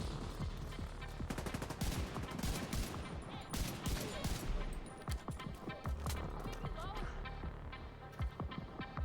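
Gunfire in The Division video game: dense, rapid bursts of automatic shots and scattered single cracks, loud and close, with a voice talking over parts of the fighting.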